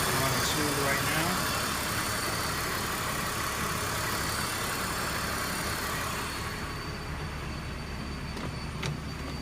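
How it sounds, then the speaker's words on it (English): A BMW 325iT engine idles smoothly and quietly at close range, a steady low hum that eases slightly toward the end. "There's no abnormal noises when we're running the engine. It's nice and quiet."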